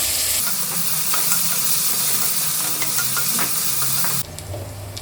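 Onions sautéing in a pan for pulao, a continuous close hissing sizzle with small crackles and stirring scrapes that drops off sharply near the end.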